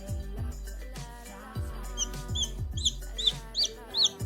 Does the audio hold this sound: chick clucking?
yes